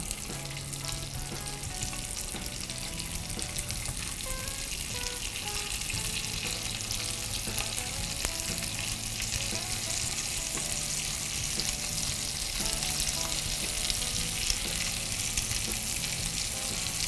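Continuous crackling sizzle of bacon and cheese toast frying in butter in a hot pan, steady and close, with faint scraping as it's turned.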